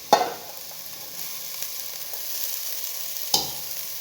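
Cooked white rice stirred into cooked carrots in a pan, a soft sizzle with two sharp spoon knocks against the pan at the start and near the end, quiet in between.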